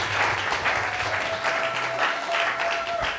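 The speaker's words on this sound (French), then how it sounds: "Let's clap our hands for the Lord." A congregation claps their hands for the Lord during a church service. Steady, dense applause from many hands carries on without a break throughout, with a faint sustained tone underneath.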